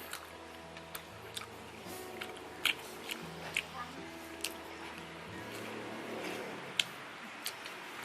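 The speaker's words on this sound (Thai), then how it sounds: "ก้างมันสามารถเคี้ยวละเอียดได้เลยครับ" Someone chews cooked fish bones from a sour fish soup, with wet crunching, squishy bites and sharp little cracks repeating irregularly and close to the mic over a low background hum.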